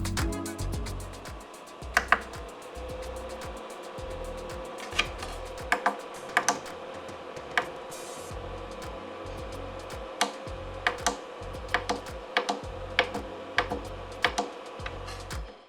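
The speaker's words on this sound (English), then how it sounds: "right now we are at the high fan speed, which is 3500 RPM" A PS5 cooling stand fan whirs at high speed, 3500 RPM, in a constant, even hum, with scattered keyboard-like clicks tapping over it.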